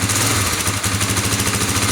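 Kawasaki KLX 250 engine idling high with the choke on amid carburetor trouble, a steady close-up throbbing putter with even rapid pulses and mechanical vibration, no voices.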